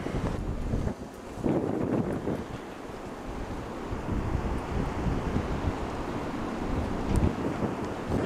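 A winter storm in Britain drives strong wind gusts, a loud, steady roar and buffeting on the microphone that swells and eases across the whole stretch with no talk.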